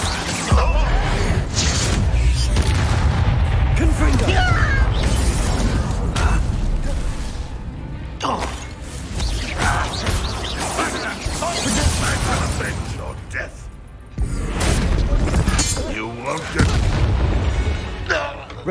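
A Bombarda blasting spell explodes in the Hogwarts Legacy video game, a heavy booming burst with crashing debris over a dense, loud game soundscape, with further rumbling impacts following.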